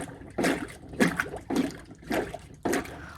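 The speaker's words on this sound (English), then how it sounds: "I love all these sounds of the water, and it really reminded me of a little mountain stream" Mulberry bark fiber for Japanese washi paper is beaten in water, giving five rhythmic bursts of sloshing and splashing at a steady pace, close and fairly loud with short pauses between strokes.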